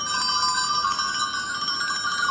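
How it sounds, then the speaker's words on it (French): Several sheep bells (sonnailles) rung together by hand at the Aurillac street festival, a continuous bright metallic clanging and tinkling with dense overlapping strikes, loud and close, no talking. "Allez-y, faites-les sonner."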